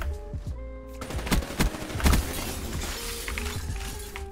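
Rapid bursts of shotgun fire from an XMC in Black Ops 3, several sharp close shots cracking in an uneven cluster over dense game background noise.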